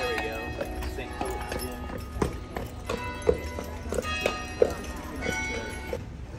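Hooves of a horse clip-clop at a walking pace outside a pink French Protestant church in Charleston, moderately close, a steady series of sharp knocks over street ambience.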